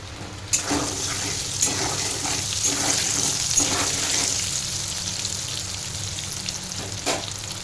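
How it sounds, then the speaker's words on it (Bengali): Potatoes fry in oil in a wok, giving a steady close sizzle with occasional louder crackles and stirring scrapes throughout. "ফার্স্ট আলুগুলোকে ভেজে নেব।"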